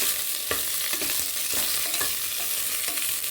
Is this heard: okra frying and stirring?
yes